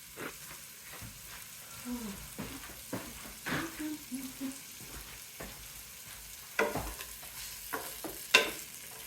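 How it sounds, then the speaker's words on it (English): Onions brown in a frying pan with a faint sizzle, punctuated by soft stirring scrapes and a few sharper clinks of a utensil against the pan, close by and without speech. "we are going to brown our onions first"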